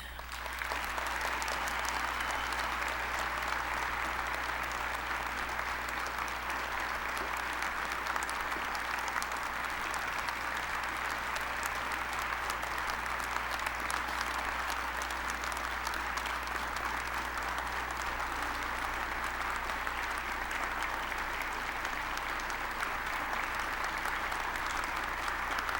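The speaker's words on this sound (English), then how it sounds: "Please join me in applauding each one as we recognize them for their service." An audience at a 9/11 memorial ceremony in a theatre applauds in a long, sustained, even wash of clapping that continues without break, with no voices over it.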